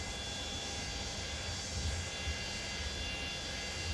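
Aircraft engine droning steadily inside a small airplane before takeoff, a low, even hum with faint tonal whine heard from the cabin.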